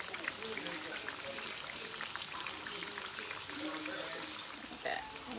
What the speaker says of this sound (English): It should be sizzling like this.